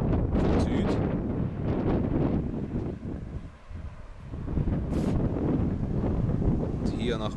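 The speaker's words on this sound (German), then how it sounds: "Der Wind kommt jedoch immer noch von Süd." Gusty south wind blowing outdoors over a rooftop terrace near a cornfield ahead of a storm, buffeting the microphone in loud rumbling bursts that briefly ease midway, with a person talking over it.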